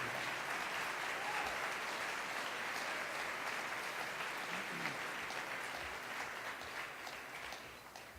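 Sustained audience applause fills a hall after San Antonio Mayor Ron Nirenberg's State of the City address, a dense steady wash of clapping that tapers slightly toward the end.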